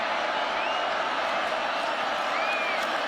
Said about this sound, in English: Crowd at Camp Randall making communication tough.